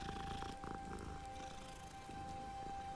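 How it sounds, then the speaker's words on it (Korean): A cat purrs in the video game Hogwarts Legacy, a steady low rumble that runs close and continuous under a faint tonal hum of background game music. "여기도 똑같은 야옹이 있어"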